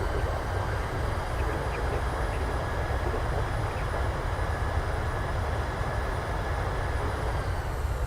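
The thrust reversers of a PMDG 737-700 roar on landing in Microsoft Flight Simulator, a dense, loud, continuous engine rumble that holds steady throughout with no talk.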